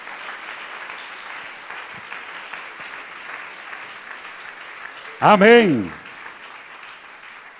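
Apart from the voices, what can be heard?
congregation applauding in church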